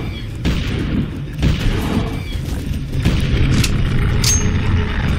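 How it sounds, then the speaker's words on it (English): Repeated booming gunshots in the video game Lone Survivor, fired into a corpse, come as several loud, closely spaced blasts over a dense, rumbling game background. "let's start shooting the corpse"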